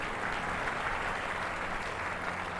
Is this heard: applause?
yes